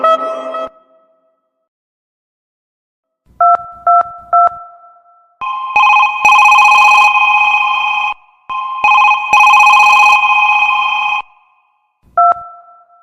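An outgoing phone call rings out as loud electronic ringback tones, repeating in bursts of varying length separated by short silences.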